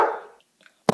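A dog lets out a single short, sharp bark at the very end, after a louder sound fades away and a brief quiet pause.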